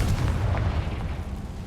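Confringo fire spell blasting in the Hogwarts Legacy video game, a dense low rumbling boom that sustains loudly through the whole short moment with no speech over it.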